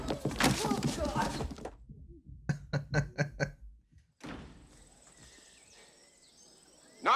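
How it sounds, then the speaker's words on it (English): Knocks on a door ring out in a quick run of five or six hollow thuds after someone speaks. A quiet, buzzy pause follows the knocking. "Knocking."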